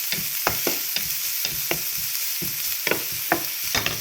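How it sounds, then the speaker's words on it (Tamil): Onion, carrot and green chilli frying in hot oil for homemade kottu roti, a steady close sizzle broken by regular scraping strikes of a spatula stirring the pan. "பச்சை மிளகாயும் போட்டுட்டு இப்போ நான் வதக்கி கொண்டிருக்கிறேன்"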